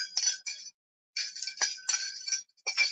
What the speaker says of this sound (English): They make a nice set of bells.